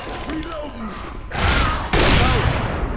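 Dense bursts of gunfire in Left 4 Dead 2 crackle loudly, intensifying midway, with a voice talking over the shooting.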